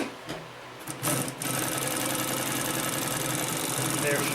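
A Consew P1255RB sewing machine stitches over thick material, running with a steady, close, loud mechanical whir after a few stuttering starts, with a voice faintly underneath.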